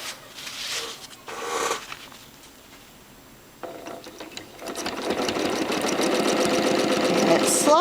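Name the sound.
sewing machine free motion quilting with rulerwork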